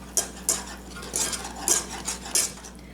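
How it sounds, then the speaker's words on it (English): Marshmallow mix with vanilla and peppermint extract whisked in a bowl for grasshopper pie: quick, evenly spaced metallic strokes, about two per second, close and clear with no talking. "Now, let's whisk that together."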